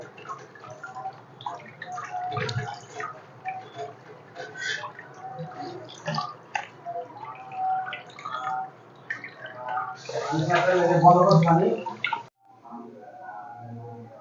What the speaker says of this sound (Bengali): ঝর্ণা দিয়ে রাখলে পানিটা ঝরে যাব